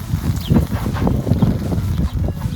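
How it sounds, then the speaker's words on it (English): Steady wind buffeting the microphone, a continuous low rumbling roar with gusty swells and no voices. "But it's a bit more windy."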